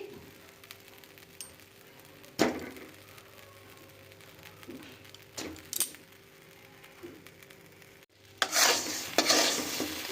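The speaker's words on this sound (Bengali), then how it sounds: "এই নুনের মধ্যে আমলকিটাকে দিয়ে আমরা খুব ভালোভাবে নাড়াচাড়া করছি" Raw amla being stirred through hot salt in a pan, scraping and rustling in bursts with a faint sizzle, a few sharper clatters and a louder stretch of stirring near the end.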